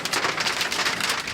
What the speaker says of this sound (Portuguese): Na Zona Leste, houve chuva de granizo na Vila Prudente